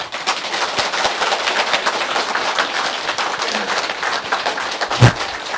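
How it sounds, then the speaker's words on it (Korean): A live audience at a folk-history lecture applauds loudly and steadily for several seconds, a dense crackle of many clapping hands with one sharper thump near the end. "박수 좀 크게 쳐줘요"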